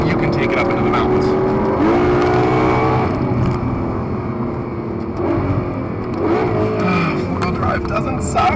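A 2012 Ferrari FF grand tourer with four-wheel drive on a mountain drive, its engine loud and close, revving and shifting through rising and falling pitch, with tire noise and someone talking over it.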